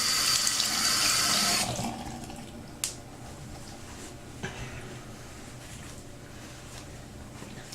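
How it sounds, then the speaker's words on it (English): A tap runs strongly at the sink while soapy hands are washed, then shuts off, leaving a quiet room with a couple of faint clicks and small knocks. "Let me wash my hands now because my hands are soapy."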